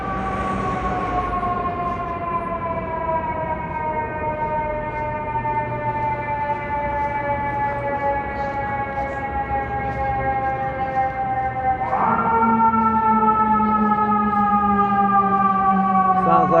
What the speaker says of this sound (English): You can hear the fire department siren for many, many blocks.